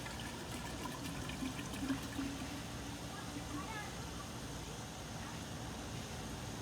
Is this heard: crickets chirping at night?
no